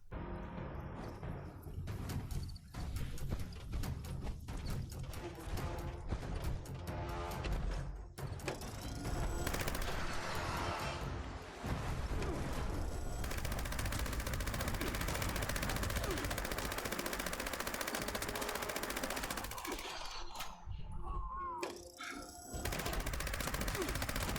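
Gorse minigun fire in a Fallout video game, sustained rapid bursts of loud gunfire with brief pauses between strings, plus mechanical clanks and other game effects.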